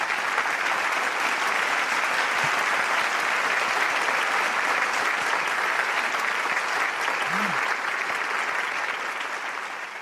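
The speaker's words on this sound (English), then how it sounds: "let us all send him again another round of applause" Sustained applause fills a hall at a youth blessing festival, a broad, even roar of many hands clapping that holds steady for ten seconds and fades slightly at the close.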